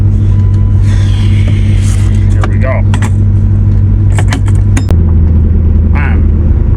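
A turbocharged Lincoln Town Car idles loudly with a heavy low rumble, its tone shifting near the end, while a person speaks briefly over it amid faint clicks and mechanical noises.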